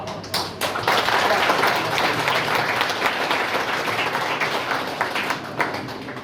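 Students at a police talk on religious harmony applaud together, a dense, even wash of many hands clapping that stays strong throughout, with a few sharper individual claps near the start.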